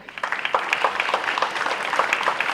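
An audience at a college opening-session ceremony applauds 5-year service award recipients, a dense, steady round of clapping from many hands lasting a few seconds.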